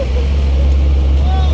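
Truck engine, a loud steady low rumble with a faint rising tone near the end, voices in the background.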